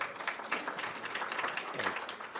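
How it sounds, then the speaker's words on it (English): A conference audience gives soft applause for a speaker. The clapping is steady and moderately distant, with a faint undercurrent of voices. "Every guest deserves at least 3 rounds of applause in this world"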